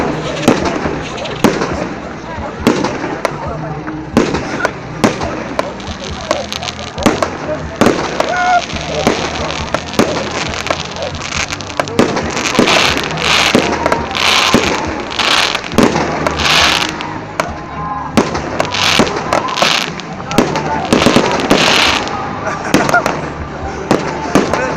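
Festival fireworks display at the Dnieper Voices festival in Dubrovno, a dense, continuous run of bursts and crackling pops with sharper loud flurries toward the end, while people talk and exclaim throughout.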